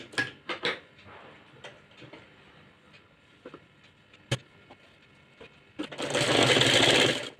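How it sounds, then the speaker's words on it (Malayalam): A sewing machine stitches the sleeve of an A-line kurti. A few sharp clicks and handling knocks lead into a loud, continuous whirring run of stitching near the end. "ഇനി മറ്റേ കൈയും കൂടെ നമുക്ക് തയ്ച്ച് കൊടുക്കാവേ."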